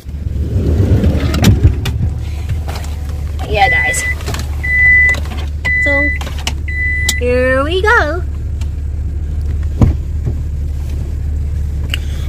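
Someone climbs into a car: a few sharp door and seat thumps over a steady low engine hum, with electronic chirps and talking across the middle of the clip.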